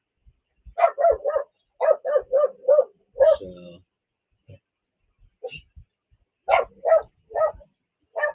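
A pet dog barks in quick bursts of three or four sharp yaps, close and loud, with a brief pause between volleys and a short word spoken amid the barking.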